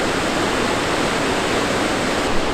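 Waterfalls in the centre of Jajce, Bosnia, pour with a loud, constant roaring rush of water that fills the whole stretch without pause.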